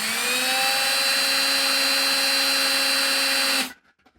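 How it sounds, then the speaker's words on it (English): A power drill bores holes in metal for a sculpture, a steady high whine with strong harmonics held close and loud for several seconds before cutting off abruptly. "me just drilling holes and fastening things together"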